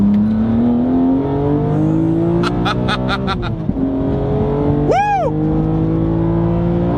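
BMW Z4 engine intake roaring under hard acceleration, its pitch climbing steadily through the gears with a brief shift dip, loud and close from inside the car, with a short excited whoop from the driver.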